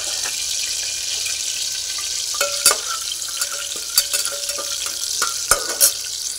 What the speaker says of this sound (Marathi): तेल तापण्यासाठी ठेवलेलं आहे। त्यात आपण हे खडा मसाला टाकायचा।